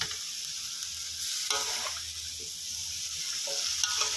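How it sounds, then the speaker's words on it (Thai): Steady hiss and crackle of water spinach with pork and curry paste being stir-fried in a large hot wok, with occasional scraping and tossing sounds, close and continuous. "ค่อยๆ ผัดไปนะครับ"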